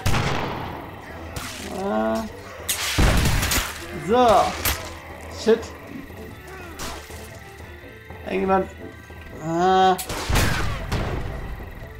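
Gunfire in the medieval combat game Chivalry: Deadliest Warrior, with several sharp, loud blasts and cracks spread irregularly through the clip, mixed with clashing impacts while someone speaks German in between.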